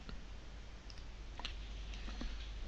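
A single soft mouse click on a link, faint and brief against a steady low room hum, with no one speaking.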